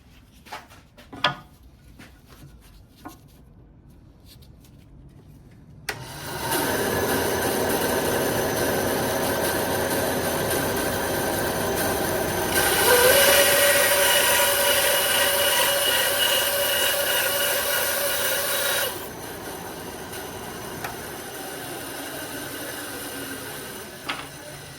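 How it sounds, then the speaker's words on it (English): A bandsaw trims a wooden chair piece to size: the motor starts after a few knocks and runs with a steady roar, and the pitch rises while the blade cuts. The saw then drops back to idle as the cut ends. "we're gonna use the bandsaw and trim this piece to size"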